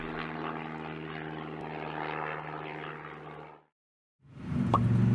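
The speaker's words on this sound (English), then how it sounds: "This is a propeller plane." A propeller plane drones steadily with a buzzing engine roar for a few seconds before cutting out, followed by a brief different noise.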